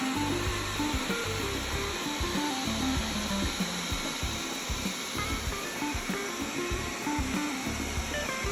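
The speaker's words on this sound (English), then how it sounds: "Wyze Robot vacuum" Wyze robot vacuum cleaner running indoors, a steady whirring motor hiss with faint brushing and rubbing textures, fairly quiet and continuous with no talking.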